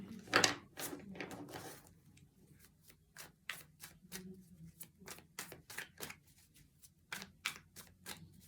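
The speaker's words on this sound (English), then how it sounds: "I will cut the deck for you" A tarot deck is cut and shuffled close up, with quick bursts of riffling followed by a long series of separate crisp snaps and taps as cards are split and laid down, faint and intimate.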